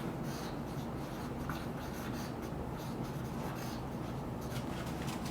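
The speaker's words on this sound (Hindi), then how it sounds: "तो ये चीज़ हम इधर लिख लेते हैं" Chalk scraping across a board during a physics lecture on torque, a steady close scratching texture that runs continuously for several seconds without speech.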